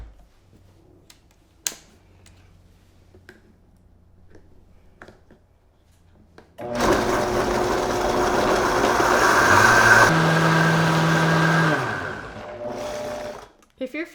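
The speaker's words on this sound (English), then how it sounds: "since I have a high-powered blender, I'm going to blend up this recipe for about a minute to about 2 minutes" A high-powered blender whirs at a steady, loud pitch while blending a recipe, starting abruptly after quiet handling noises and running for several seconds before cutting off.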